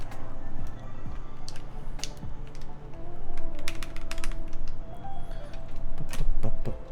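Keycaps and switches clicked and pulled on a hot-swap IQUNIX ZONEX 75 mechanical keyboard, irregular close plastic clacks and taps over a low background hum.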